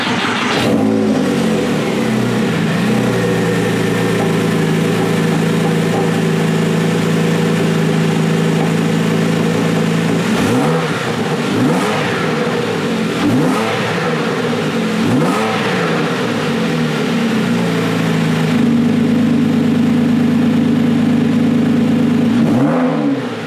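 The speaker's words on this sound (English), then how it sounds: "Let's leave my microphone at the back and fire that engine up." A Porsche 911 Carrera S 997.1 flat-six engine fires up and settles into a steady, loud idle close by, with several brief blips of the throttle rising above the even hum.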